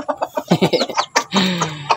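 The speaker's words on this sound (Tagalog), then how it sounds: "Tumatawag yung Red natin ng inahin." Rooster named Red calling to a hen: a quick run of close clucks, then a longer drawn-out call, loud and clear with no talk.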